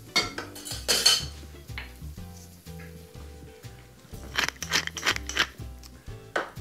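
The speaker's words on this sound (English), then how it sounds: "Just toss these to combine" Warm salad of roasted bread and artichokes tossed in a bowl, with close, irregular clinks, scrapes and soft thuds of utensils against the dish, no voices.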